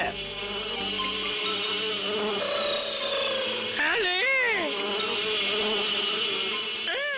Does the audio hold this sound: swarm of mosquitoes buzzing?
yes